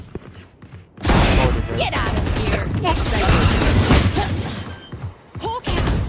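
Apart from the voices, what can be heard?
grenade explosion and gunfire in Valorant video game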